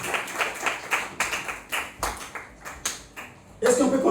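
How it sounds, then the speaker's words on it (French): A congregation at a church service claps in acclaim of the Lord, a run of sharp, roughly regular bursts of clapping, fairly close, ending in louder mixed noise. "Est-ce que tu peux acclamer le Seigneur?"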